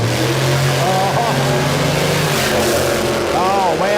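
A drag racing car at Warwick Dragway accelerates down the strip, a loud sustained engine roar with rising tonal sweeps as it shifts, while a commentator's voice talks over it.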